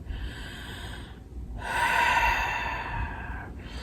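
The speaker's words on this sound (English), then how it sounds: "Take a nice full breath." A long, full breath during a morning yoga practice, a soft airy rush that swells for about two seconds and then fades, close to the microphone with no talking.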